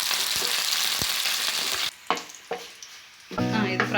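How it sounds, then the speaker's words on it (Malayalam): Chicken frying with curry leaves in a hot oiled pan for a coconut chicken fry, giving a steady loud sizzle with stirring scrapes, a brief pause, then a fresh burst of crackling. "അതിലേക്ക് കറിവേപ്പിലയും കൂടെ ചേർത്ത് കൊടുക്കാം. നല്ലതായിട്ടൊന്ന് ഫ്രൈ ആവണം."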